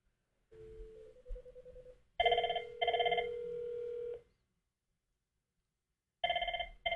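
Telephone ringing on an incoming test call: an electronic ring tone in repeated trilling bursts, a long pause, then the ring starting again. The sound is clear, with no talking over it.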